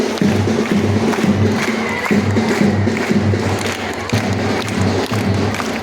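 Children and audience at a school assembly clapping together in a steady, rhythmic beat, loud and close, with a broad crowd roar running throughout.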